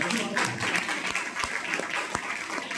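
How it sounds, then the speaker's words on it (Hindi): A church congregation claps together in steady, sustained applause during a worship service, with a voice faintly present underneath. "हम ताली बजाकर परमेश्वर को"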